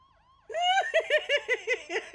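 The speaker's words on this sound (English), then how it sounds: "I'm gonna turn off these sirens." A police patrol car's emergency siren sounds close and loud, starting with a rising wail and breaking into a rapid, rhythmic yelp that pulses about six times.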